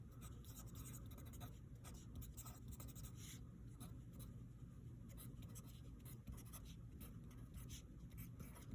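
A pen or marker scratches and taps as numbers are written onto a motion graph, with short irregular strokes over a faint steady background hum and no talking.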